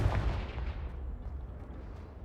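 A Confringo blasting spell goes off in Hogwarts Legacy as one loud booming explosion up front, then a rumbling decay that fades over about two seconds, with no voices.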